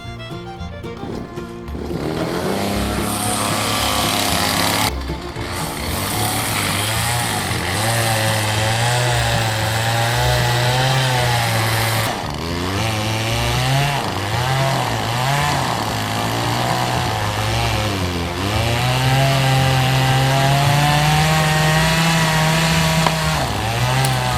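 Chainsaw with a 16-inch bar cutting through wood, its engine loud and close and running steadily throughout, the pitch rising and dipping as the throttle opens and the chain bites into the log.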